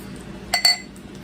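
Ice cubes clink against a glass in two quick bright taps, close and crisp over a quiet room.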